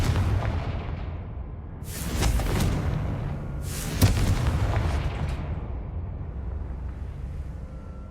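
Confringo spell explosions in Hogwarts Legacy: two loud fiery booms a couple of seconds apart, each with a crackling burst that fades into a rumbling tail over a low ambient background.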